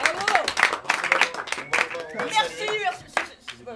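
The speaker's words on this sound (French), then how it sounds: "Les applaudissements bien fort." Audience at an improv show in a Paris impro festival clapping, with scattered, uneven claps mixed with voices calling out close by; the applause is moderate and thins out within a few seconds.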